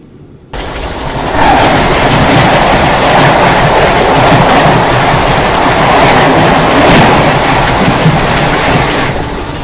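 An Indian Railways Secunderabad Rajdhani Express passes close and loud, a sustained roar with wheel clatter that starts abruptly and holds throughout.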